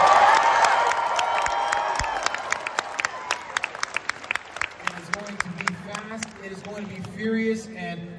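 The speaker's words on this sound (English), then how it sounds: "So crowd, give it up one time for all of our dancers here tonight." A crowd at a furry convention dance battle applauds and cheers for the dance crews, loud whoops and clapping fading into scattered claps and shouts, with voices heard toward the end.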